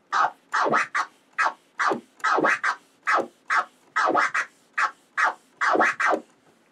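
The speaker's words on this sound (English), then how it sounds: "You can go back and forth between your baby scratch and your March scratch." Rapid back-and-forth record scratching on a turntable, baby and March scratches, short rhythmic bursts repeating steadily, close and loud with no talking.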